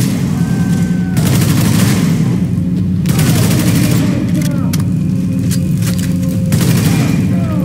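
Repeated bursts of automatic gunfire in a shooter video game set in Lower Manhattan, loud and dense, recurring in several volleys with booming low rumble beneath and a steady droning background.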